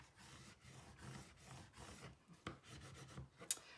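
Stickers lifted and re-pressed on a planner page are rubbed down by hand, soft close scratchy rubbing strokes in a quiet room with a few faint taps and no talk.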